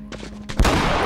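Gunfire in The Last of Us video game inside a high school: a few quick muffled shots in close succession, then one louder sharp blast with a reverberant tail, and no voice during it.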